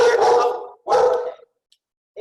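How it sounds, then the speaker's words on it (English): A pet dog barks twice in quick bursts, close and fairly loud, during an online webinar, with a faint third sound starting at the end. "This is going to be great for the recording because my dog is barking."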